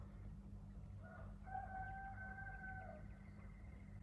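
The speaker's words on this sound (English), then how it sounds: "Why is a rooster crowing at like 4 in the afternoon?" Somewhere in the afternoon a rooster crows once, faint and distant, its drawn-out call sitting over a steady low hum of background noise.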